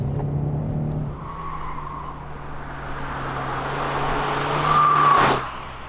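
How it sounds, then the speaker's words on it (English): A 2021 Kia Optima with a 1.6 turbo engine cruises on the highway in comfort mode. Steady road and cabin rumble runs throughout and swells briefly near the end, as if another vehicle is passing. "Right now we're driving on the highway with Kia Optima on comfort mode"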